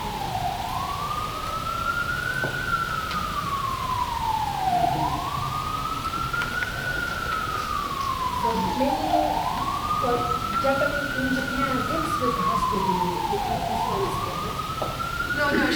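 A wailing emergency siren rises and falls in long, slow sweeps, repeating about four times at a steady moderate distance over a constant background hum.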